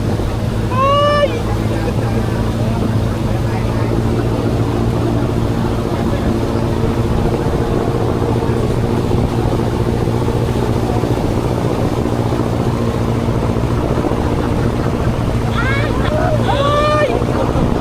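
Boat driven by a jeepney-type 4DR5 diesel engine drones steadily and loudly throughout, with wind buffeting and a person's voice heard briefly at the start and near the end.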